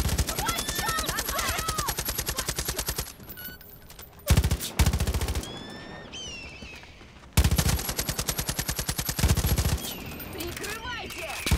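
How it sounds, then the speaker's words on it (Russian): Automatic gunfire in the Far Cry 5 game, long rapid machine-gun bursts broken by short pauses and single shots, loud and close, with game sound effects between the volleys. "Вообще не туда стреляю."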